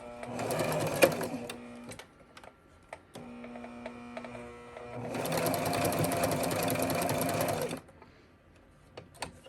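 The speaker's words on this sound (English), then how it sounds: "So if your sewing machine is able, you could always take off the bottom and just go all the way around." A sewing machine stitches around the bottom of a stocking in two long whirring runs, close and loud, with a brief pause and clicks between and after the bursts.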